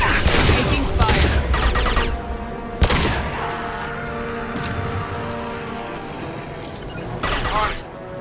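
Gunfire and explosive impacts in the video game Mass Effect 2, with scattered loud cracks and booms among continuous combat noise, moderately loud, with a voice heard among the shooting.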